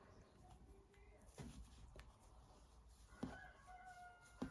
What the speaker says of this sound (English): you can hear the cockerels and chickens